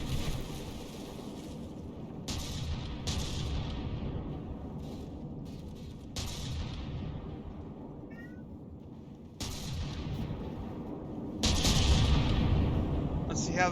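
CRAM cannon shells fire and burst in a naval battle in the game From The Depths, coming as repeated heavy booms and rumbling blasts with sharp onsets, spaced a couple of seconds apart, while someone talks over them.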